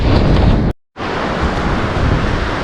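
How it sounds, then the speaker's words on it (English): Strong wind roars across a microphone on the Dublin coast during evening bass fishing, a loud steady rush with surf mixed in, broken by one brief dropout. "Wind's picking up a little bit"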